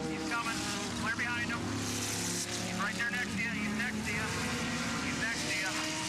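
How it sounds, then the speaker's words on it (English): A race car engine roars continuously up close during a 2006 American Le Mans Series race at Portland, its pitch sweeping up and down with broadband noise as the car spins on track, while a commentator talks over it. "And now Ron Fellows making a very un-Ron-like mistake and spinning."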